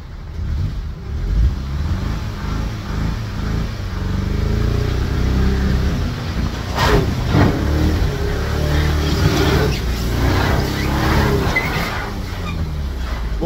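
A car revving hard as it drives up a recovery truck ramp, the engine droning loudly and rising and falling in pitch at close range throughout.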